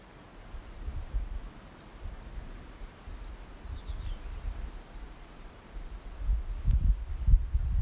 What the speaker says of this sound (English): you could hear two birds, the chirping of the Spanish sparrow and bursts of song from the blue rock thrush